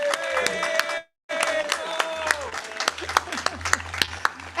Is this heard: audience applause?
yes